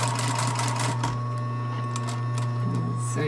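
Sewing machine stitching the seams of a tiny orange sweater, a steady close mechanical hum with rapid needle clatter running continuously, briefly easing midway, with no talk.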